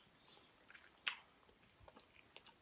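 Bacon with waffles being eaten, with soft close chewing and an occasional crisp bite standing out against quiet background.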